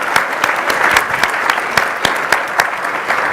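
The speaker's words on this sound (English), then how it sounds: "So another round of applause, please." Enthusiastic applause from a crowd at a credit union executive presentation competition, dense clapping with sharp individual claps standing out, sustained for a few seconds.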